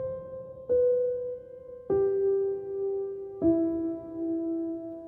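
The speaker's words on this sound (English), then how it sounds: "Now, with this, I added this melody on the keys by keyscape sounds like this." Lo-fi keys melody played on a Keyscape piano plugin, four soft sustained notes stepping down and up in a slow, mellow line, clean and alone.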